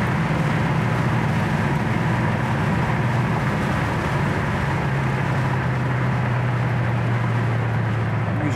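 A 1972 Plymouth Scamp cruises down the road at 60 mph, giving a steady, unbroken drone of engine and road noise that holds at a constant loud level with a low hum running underneath.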